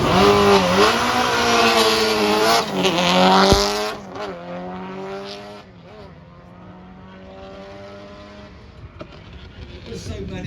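Subaru WRC rally car in classic colours running down a hill at a classic and supercar show, its loud engine revving and shifting as it passes close by, then fading into the distance while people talk nearby.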